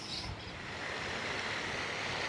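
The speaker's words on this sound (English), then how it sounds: "that looks like an impressive fountain." Large fountain in Montevideo, Uruguay, with water splashing and pouring in a steady, broad hiss, close and continuous, with a light breeze.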